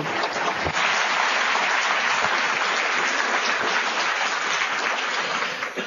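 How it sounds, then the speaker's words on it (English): An audience at the Davos Open Forum 2009 climate justice panel gives the panelists a sustained round of applause, a dense, continuous wash of many hands clapping throughout before easing slightly at the end. "a big round of applause to all the panelists this evening."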